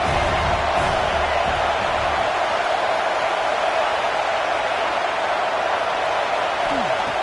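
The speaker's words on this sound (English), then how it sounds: "3rd down, and the crowd really getting into it." Stadium crowd noise at a college football game between Miami and Oklahoma on a third-down play, a steady loud roar of many voices that runs the whole stretch, with a rise near the start and no clear separate cheer.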